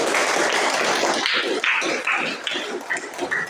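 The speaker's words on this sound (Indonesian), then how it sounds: "Kasih tepuk tangan" Students in a classroom clap on cue during a concentration exercise, with a dense patter at first that thins into scattered, uneven claps, moderately close.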